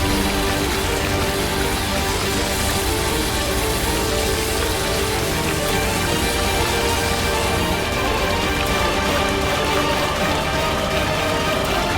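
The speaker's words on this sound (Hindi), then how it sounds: "2 मिनट भी नहीं रुकी ये बारिश।" Steady, heavy rain pouring down without pause for about twelve seconds, a dense even hiss of falling water with no voices.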